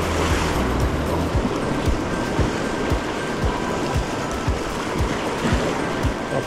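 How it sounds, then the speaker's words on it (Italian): Rough Adriatic sea is building under strong wind, with a continuous roar of surf and wind buffeting the microphone, and repeated sharp slaps of water breaking close by. "Il mare si sta alzando"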